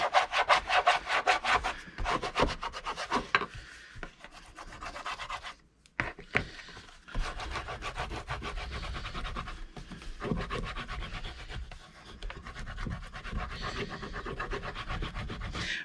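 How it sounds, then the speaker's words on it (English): The cover of a handmade hardcover journal is burnished by hand. Dense, close rubbing strokes repeat in quick, uneven rhythm, with a brief pause midway before the rubbing resumes. No one speaks. "I'm burnishing, burnishing, burnishing."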